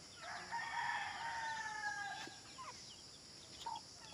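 Chickens cluck and a rooster crows outdoors among farm goats and fowl with chicks, the crowing fairly near and steady for several seconds, with no talk.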